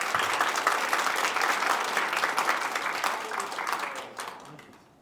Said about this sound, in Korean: 자, 여러분 다시 한번 따뜻한 박수 부탁드립니다.